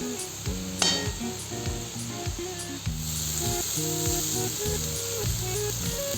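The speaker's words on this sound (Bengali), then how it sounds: "সবজিগুলো ভাজা হয়ে গেছে" Vegetables fry in a pan with a steady hiss and sizzle, partly buried under loud melodic background music, with one sharp clink near the start.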